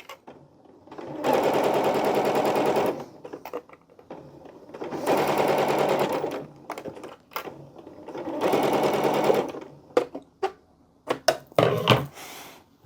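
A sewing machine stitches a raglan hoodie made of Alpha Direct fabric in three sustained bursts of a few seconds each, separated by pauses, then a few short clicks and brief stitches at the end.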